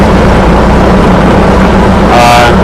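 A light aircraft's piston engine idles steadily on the ground after start with the boost pump on, a continuous close, loud drone with low rumble throughout and a brief brighter whoosh near the end.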